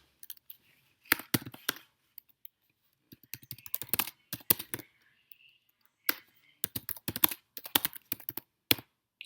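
Code is typed on a computer keyboard in quick, uneven bursts of crisp clicking keystrokes with short pauses between, close and clear against a silent background.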